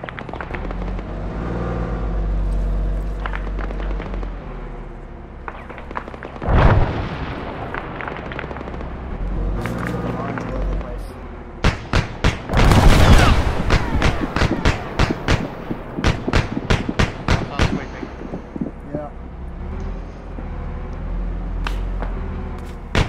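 An armoured enemy vehicle is blown up in a military shooter game, heard as a loud rumbling blast followed by a rapid burst of sharp cracks and bangs over steady background engine noise.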